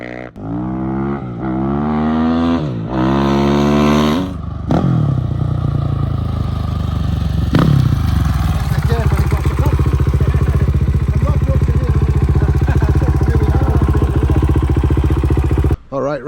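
Dirt bike revving hard through rising and falling gear sweeps, then settling into a steady loud engine drone while riding, close and continuous for the whole stretch.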